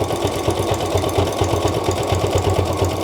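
A sewing machine runs steadily, stitching through several glued layers of handmade paper. The close, even mechanical chatter keeps a fast, regular rhythm for the whole stretch.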